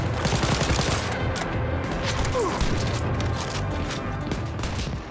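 Rapid, dense shotgun blasts and chaotic combat noise in the first-person shooter game Wolfenstein: Youngblood, loud and continuous with booming impacts and no talk over them.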